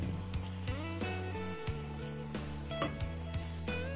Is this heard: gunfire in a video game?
no